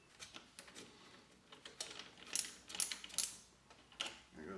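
Screws being removed from radiator covers on a BMW R1200GS Adventure motorcycle, a faint series of small ratcheting clicks and metallic ticks from a hand tool, close and quiet with no talking.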